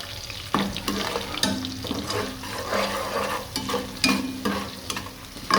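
Bay leaf frying in hot oil for matar pulao, a continuous soft sizzle with intermittent stirring scrapes and light clinks of a pan, fairly quiet and close with no talking.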